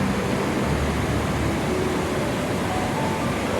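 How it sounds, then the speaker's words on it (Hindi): Glacier meltwater rushes in a mountain stream near the Rakaposhi viewpoint in Nagar, northern Pakistan. It is a steady, loud, broadband roar of flowing water with no pauses and no voices. "ये ग्लेशियर का पिघलता हुआ पानी।"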